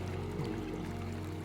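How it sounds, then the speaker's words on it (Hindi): Water runs steadily through an opened sluice gate on a canal near Dehradun, heard as a close, loud, continuous rushing flow with a low rumble and no voices. "इसमें पानी चल रहा है।"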